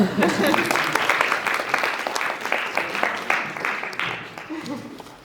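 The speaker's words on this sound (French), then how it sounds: "applaudissez l'étoile de ce soir" An audience at an illusionist's stage show applauds with dense, moderately loud clapping that carries on for several seconds and thins slightly toward the end.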